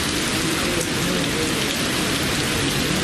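Heavy rain pours steadily during a storm with thunder and gale-force wind in the Ambattur and Avadi area near Chennai; a dense, continuous roar of downpour fills the whole stretch, loud and close, with no voices.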